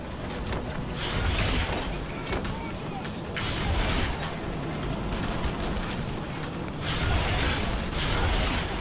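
In Red Faction Guerrilla, the grinder weapon fires with a loud, grinding, ratcheting mechanical rattle that comes in repeated bursts, while a voice talks over parts of it.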